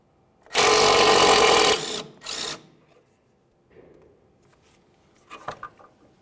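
A 10 mm tool removes the rear emergency brake cable bracket on a 2002-2005 Ford Explorer, making a loud buzzing run of about a second and then a shorter burst, followed by faint metallic clicks and rattles.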